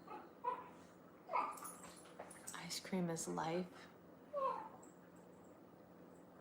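Dogs shut in a kennel at home whimper and give a few short yips in brief bursts, fairly quiet beneath a person talking close by.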